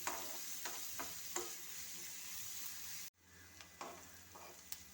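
Chopped onions sauté in oil for an egg curry, a steady soft sizzle broken by occasional spatula scrapes and taps, with a short dip in the sound partway through.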